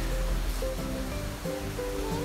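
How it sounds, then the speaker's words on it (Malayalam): A small stream flows beside open fields, its steady broadband rush of water continuous and close, with faint tonal sounds threading through but no voices. "അപ്പോൾ ഇതാണ് തോട്."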